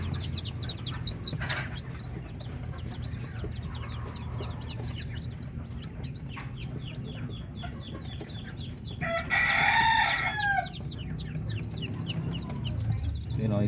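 Darag native chicken chicks peep in quick high chirps throughout, with a louder burst of crowing and clucking from adult fowl partway through, over steady background noise.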